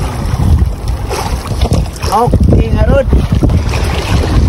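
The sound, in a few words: strong south wind at sea on a fishing boat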